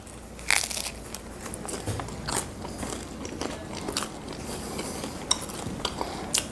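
Gluten-free bread topped with olive oil being bitten and chewed, with a few crisp crunches and softer chewing sounds close up and alone, no talking.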